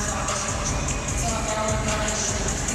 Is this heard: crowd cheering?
yes